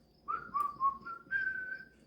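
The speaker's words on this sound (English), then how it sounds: "Whistle while you work." Someone whistles a short tune in a quiet indoor setting, a few clear, wavering notes in two phrases, soft and nearby.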